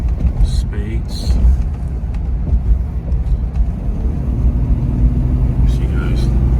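A 1986 Jaguar Series 3 speeds up along a cold coastal road. A low, steady rumble of engine and road noise is heard from inside the cabin, and someone talks over it throughout.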